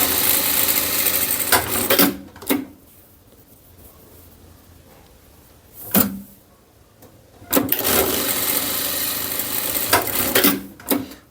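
Sewing machine stitching the cuff of a child's pajama pants, with two long bursts of rapid stitching separated by quiet pauses and short clicks between runs, close and clear with no speech.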